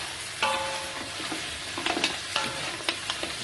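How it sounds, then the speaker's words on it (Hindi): Meat frying in a pot with onions cooked to dark brown, heard as steady close sizzling with a few sharp stirring scrapes and clinks scattered throughout. "इसमें अच्छी तरह से गोश्त को फ्राई करूंगी।"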